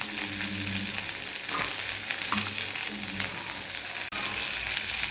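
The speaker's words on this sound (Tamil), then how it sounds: "இப்போ இந்த பூண்டு போட்டுக்கிறேன் நான்." Garlic sizzles steadily in a hot pan of oil for a betel-leaf chutney, a close, dense crackling hiss with occasional stirring scrapes and a brief pause near the end.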